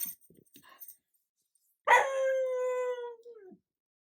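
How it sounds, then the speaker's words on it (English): A puppy lets out a long rising-then-falling howl with a few small yips and barks before it, close and fairly loud in an otherwise quiet room. "Don't mind the puppy."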